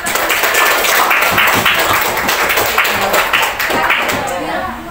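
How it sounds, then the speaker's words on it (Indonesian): A class of students applauds during a science lesson in a classroom, a dense, steady patter of many hands clapping that runs nearly the whole time before easing slightly at the end. "Kita beri aplaus untuk"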